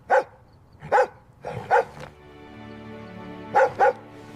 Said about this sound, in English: He never barks like this.